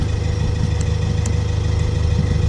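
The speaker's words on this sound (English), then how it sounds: "it's hard to hear it kind of, but the exhaust leak is like right down here" A Honda Integra idles steadily with a low engine rumble throughout, while a faint, sparse ticking from an exhaust leak sits underneath, hard to pick out from the drone.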